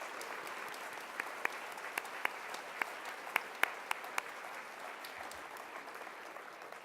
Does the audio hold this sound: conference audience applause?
yes